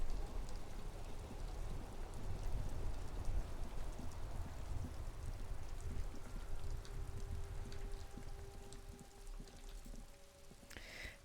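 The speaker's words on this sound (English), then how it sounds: "Now it's raining again." Steady rain pours down in a video game, a dense, even hiss that keeps going with no talk over it and eases off slightly toward the end.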